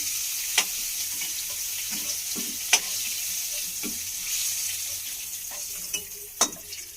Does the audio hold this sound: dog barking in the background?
no